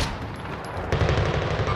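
Gunfire in Call of Duty: Modern Warfare on Rebirth Island, a dense stream of loud, rapid shots running straight through, with the burst hitting harder near the middle.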